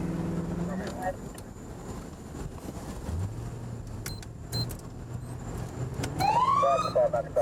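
A police car siren sounds at a traffic stop involving a gray Hyundai, first under steady road and cabin noise with voices, then a loud rising-and-falling wail near the end.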